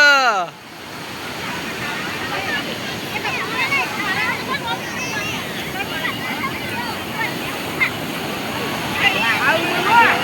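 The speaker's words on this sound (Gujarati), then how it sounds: "જો મિત્રો કેવા મોજા આવે છે જોરદાર" Steady rushing sea surf at Dwarka with a broad wash of water noise, waves breaking continuously nearby; voices talk faintly underneath throughout.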